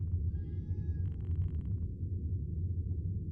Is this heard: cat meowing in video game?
yes